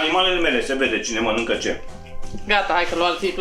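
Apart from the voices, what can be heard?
No everyday noise stands out behind the speech.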